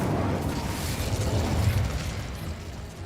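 A roaring Incendio fire spell cast in the video game Hogwarts Legacy: a dense, steady rush of flame and crackle, loud and close, lasting about three seconds with no talk over it.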